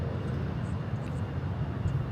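A jet airliner takes off from runway 36 right at Charlotte Douglas International Airport, a steady, broad engine roar heard from a distance without pause.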